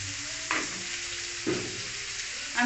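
Taro greens with chickpeas being stirred in a frying pan, a soft ongoing sizzle broken by three distinct scraping stir strokes of the spatula at roughly one-second intervals, close and moderately quiet.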